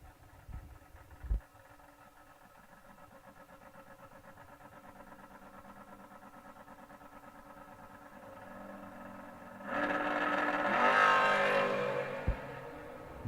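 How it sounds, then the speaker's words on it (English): A Pontiac Sunbird door-class drag race car at the strip, heard as a faint, steady idle that swells into a louder rev near the end before a sharp pop. "Brad Gebhardt's Pontiac Sunbird coming up next."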